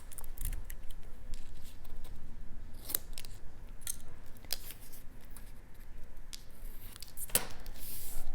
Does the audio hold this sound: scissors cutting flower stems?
yes